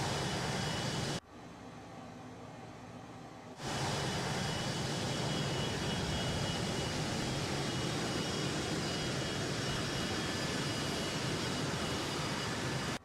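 Cockspur PH100 Phenom jet in Microsoft Flight Simulator, a steady broadband jet engine roar that drops away briefly near the start and then holds loud and even for the rest.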